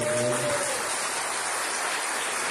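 Church congregation applauding a visiting couple, a steady hiss of many hands clapping that sounds like rain, with a brief voice at the start.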